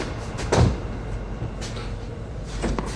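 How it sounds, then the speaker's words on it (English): A door in an old-style Hollywood adventure film is handled and pushed open, with a single knock or thud near the start and faint creaks and rattles over a steady noisy film soundtrack; no talking. "Watch Billy Zane playing an old Hollywood hero trying to open a door."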